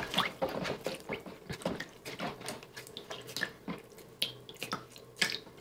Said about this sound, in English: I'm gonna rinse these last two out.